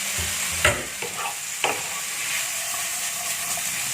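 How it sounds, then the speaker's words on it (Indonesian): Shrimp and broccoli sizzle in a frying pan, with two sharp utensil knocks and scraping stirs over a continuous hiss, close by and with no voices. "Kita masukkan udangnya."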